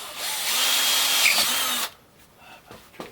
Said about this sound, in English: I'm going to drill some holes right here.